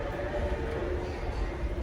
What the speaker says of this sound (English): We just made it to the train.